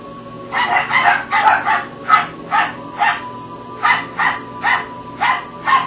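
Dogs bark inside a house, roughly ten sharp, evenly spaced barks at a steady rhythm, fairly loud and close, with no talking.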